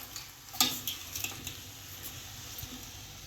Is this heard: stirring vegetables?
yes